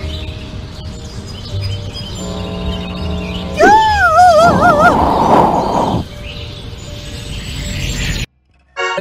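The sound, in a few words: birds chirping in video game Scary Teacher 3D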